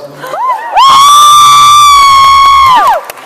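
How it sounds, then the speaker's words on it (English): A live audience at a music and book event in Swindon cheers and screams loudly for about two seconds, a sustained high-pitched crowd roar that swells in and cuts off, heard close and dominant. "What a really weird thing for people to cheer about."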